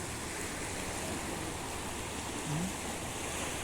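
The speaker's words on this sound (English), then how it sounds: "with the waves rushing into the shore" Waves rush steadily onto a Maldives shore on the Indian Ocean, a continuous broadband wash of surf close by with no talking.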